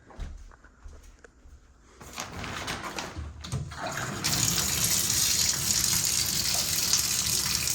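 Bathroom sink tap running, the water starting faintly then growing into a steady, loud gush that continues alone to the end.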